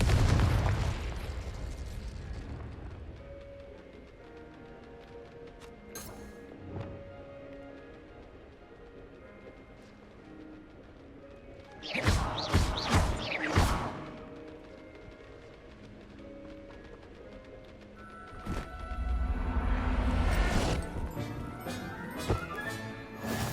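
Confringo spell blasts in Hogwarts Legacy: a few booming fiery explosions with crackling bursts, spaced apart over a background of game music and ambience.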